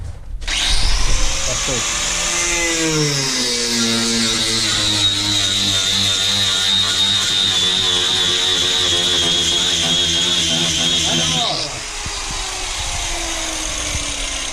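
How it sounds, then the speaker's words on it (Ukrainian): An angle grinder fitted with a wooden cutting disc spins up and cuts into a wooden workpiece with a loud, sustained whine that changes pitch under load, then eases off near the end. "Да, дерев'яний круг по дереву для болгарки"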